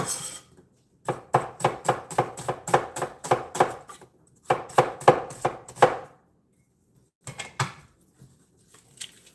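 A knife thinly slices a sweet onion on a cutting board in quick, sharp, rhythmic chops, grouped in bursts with short pauses between them, close and clear with no voices.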